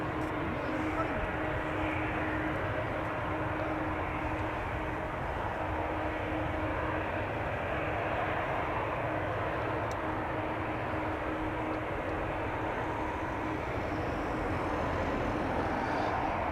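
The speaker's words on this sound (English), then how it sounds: "I'm hearing engine sounds." A steady aircraft engine drones throughout at Amsterdam Schiphol Airport, a continuous low roar holding at the same level from start to finish.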